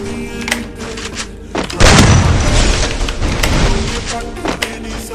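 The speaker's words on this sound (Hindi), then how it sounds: "ग्रेनेड लगा था यार" A grenade explodes in a mobile battle-royale shooter, a loud booming blast with a rumbling tail, preceded by scattered game noises and faint talk.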